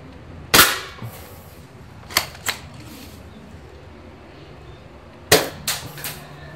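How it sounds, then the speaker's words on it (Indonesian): A dCobra M96 toy gun fires, giving sharp close snapping cracks: one loud shot, then a pair of quicker lighter snaps, and later another loud crack followed by two softer clicks, with no talking. "Tadi ada double shot, artinya 2 peluru keluar."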